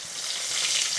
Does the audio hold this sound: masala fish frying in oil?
yes